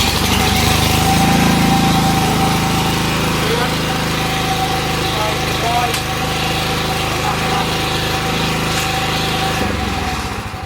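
Honda HRU216 self-propelled lawn mower engine running steadily and close, a loud continuous drone with a faint tonal whine and slight variations, ending near the close; the self-propel drive has a fault.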